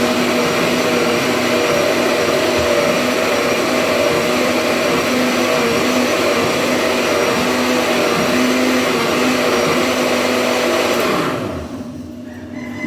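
Blender whirring at high speed while blending coconut for Jamaican-style rice porridge, a loud steady motor drone that runs unbroken for about eleven seconds, then winds down and stops.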